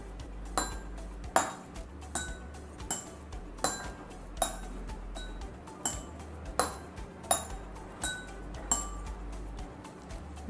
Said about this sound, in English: this glass and this glass all are having different level of water. So it is producing different sounds